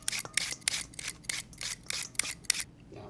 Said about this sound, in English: now what we're gonna do is take a peeler and just